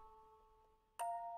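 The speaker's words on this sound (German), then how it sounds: "Es ertönte ein lautes Klingeln" A faint tone hums, then a louder two-tone electronic chime rings out abruptly, like a doorbell.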